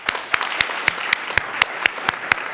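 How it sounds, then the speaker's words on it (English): An event audience applauds, a fairly thin clapping with a few sharp, evenly spaced claps standing out close by over a softer spread of hands. "I'd just like to offer another round of applause to our event sponsors."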